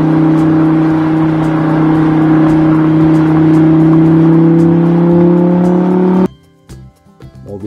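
A red toy supercar's sound effect plays a loud, steady engine drone for about six seconds, then cuts off abruptly into brief clattering handling noises.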